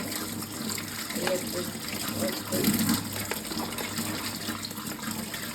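Water gushes steadily from a tap while mangoes are washed, a constant close splashing flow with a brief louder surge midway, and voices talking over it.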